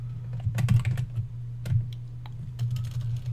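Close, brisk computer keyboard typing during card design software work: bursts of sharp key clicks separated by short gaps, over a steady low electrical hum, with no voices.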